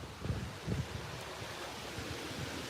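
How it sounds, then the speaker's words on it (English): Steady outdoor wind roars and buffets the microphone on a night walk, with a few low thumps early on and no talking. "it is fucking windy out here for no reason, literally no reason"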